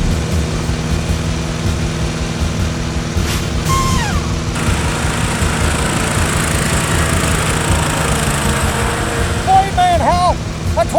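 A Toro Time Master 30-inch lawn mower engine runs steadily at a close, loud, even drone, with voices talking over it.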